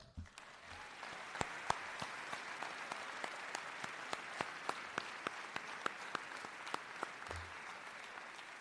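A graduation ceremony crowd at Chester High School applauds, a fairly faint, distant wash of clapping with several sharper individual claps standing out in a loose rhythm near the front.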